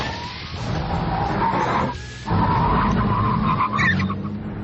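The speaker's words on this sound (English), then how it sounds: "And then, when you hit the carbon ceramic brakes," A Pagani Zonda F supercar braking hard from about 125 mph on carbon ceramic brakes, with loud tire skid and squeal over a steady roaring engine and road noise, continuous and close.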